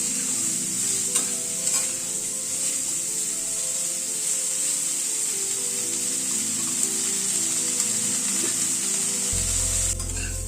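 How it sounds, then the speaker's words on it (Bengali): Cauliflower and potatoes with salt and turmeric fry in a pan over a low-to-medium gas flame, with a continuous gentle sizzle and soft scraping stir strokes; a low hum rises near the end. "নুন হলুদ দিয়ে আলু ফুলকপিটাকে আগে ভালো করে ভেজে নেব।"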